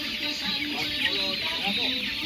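Young roosters about 42 days old cluck and murmur continuously in a farm coop in Ciamis, a dense chorus of overlapping fowl calls at close range.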